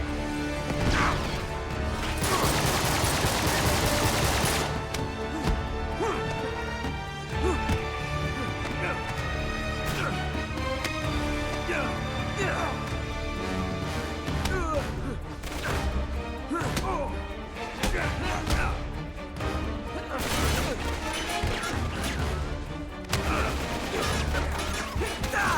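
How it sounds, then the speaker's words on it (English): Gunfire and chaotic combat in the action video game Uncharted 3: Drake's Deception, with dense bursts of shots, crashes and thuds layered over a loud, continuous game soundtrack, intermittent voices heard now and then. "I need to get out of the gunfire."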